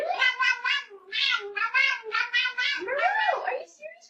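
Several meows from a cat in an AI-generated Sora home security camera scene, as the cat snitches on a dog about a mess. The meows come close and loud in quick repeated bursts, ending in a long rising and falling yowl.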